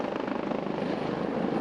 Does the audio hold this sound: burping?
no